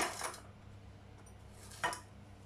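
Ground garlic scraped out of a mixer jar into a cooking vessel, two brief metallic clinks and scrapes of a spoon against the container, quiet and close with no speech.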